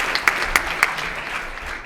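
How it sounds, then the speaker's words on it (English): Audience at an improv comedy show in Copenhagen applauds, a steady patter of clapping with a few sharper claps standing out, moderately loud throughout. "let's give a massive round of applause to Emily"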